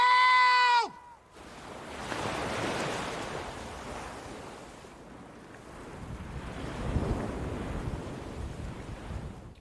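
Ocean surf washing and rumbling steadily on a shoreline in the film Cast Away, with wind noise, after a brief tonal music sting at the start.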